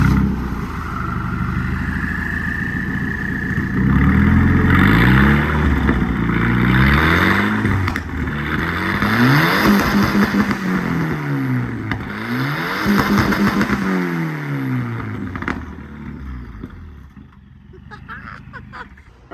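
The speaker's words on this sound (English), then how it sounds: "Let's hear how the straight piped red block sounds." Straight-piped Volvo 760 Turbo wagon with a red block engine, revving repeatedly in rising and falling sweeps, loud and close, with a steady raspy idle between throttle blips.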